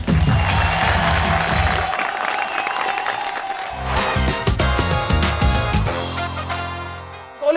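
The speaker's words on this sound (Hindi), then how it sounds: "बजा ताली।" Studio audience applause on a Pakistani television game show, dense clapping and crowd noise mixed with bright music stings and jingles.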